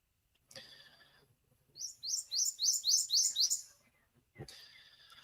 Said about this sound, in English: I need to move away from the prothonotary warbler's nest.